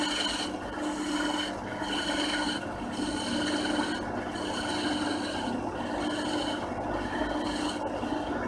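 Wood lathe tool cutting end grain on a turned box, a continuous rasping, scraping hiss with rhythmic pulses as the tool passes the spinning wood, close and steady with no talk.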